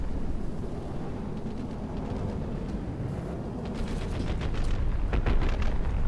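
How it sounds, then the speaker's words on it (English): Torpedoes hit ships in a battleship video game. Low, rumbling booms and blasts build over a constant roar and grow louder toward the end, with several sharper impacts near the close. "Oh, wait. Those torpedoes hit."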